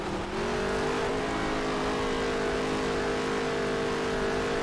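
A NASCAR race car engine roars at high, sustained revs in NASCAR Heat 3, a dirt-track racing game, holding a steady, loud drone with a slight rise in pitch early on.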